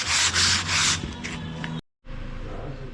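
Hand sanding of a quadcopter frame, several quick rough rubbing strokes in bursts, then a brief silence before a softer continuous scraping hiss resumes, close and fairly loud.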